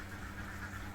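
Laying ducks quack steadily in a dry, rice-husk-bedded pen during afternoon care, a dense continuous flock chorus close by with no speech over it.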